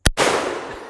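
A lever action rifle chambered in .44 Magnum fires a single sharp, loud shot at steel targets, followed by a quick echo that rings and decays over the next second.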